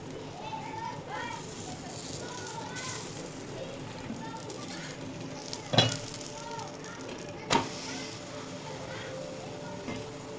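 Jowar and besan dhapate flatbread roasting in oil on a pan, a steady close sizzle with two sharp knocks partway through, while someone talks over it.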